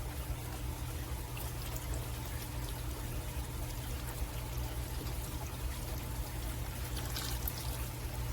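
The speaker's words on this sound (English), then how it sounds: "we're going to go ahead and pour our beef broth in" Beef broth being poured into a pot for a pot roast, a steady liquid stream running continuously and close by, with no talk over it.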